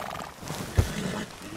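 Horse in Red Dead Redemption II gives a brief, close neigh mid-clip, a short burst standing out over low game ambience, with no talk.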